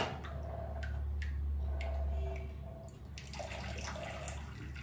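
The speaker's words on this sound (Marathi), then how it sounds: "हा नळ कधी बंद होणार आहे काय माहिती" A tap runs steadily in a home, its continuous rush of water close by with faint clicks and clinks scattered over it; no one speaks.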